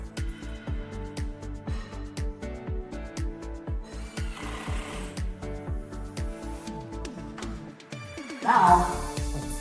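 A power tool driving screws during a home renovation where an extra room is being added, a loud, close mechanical whir with steady pulsing that rises in pitch and intensity near the end, with no talking.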